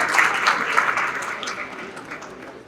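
Crowd applause for the master of ceremonies at a small business awards reception, a dense spread of clapping that starts fairly strong and gradually tapers and fades.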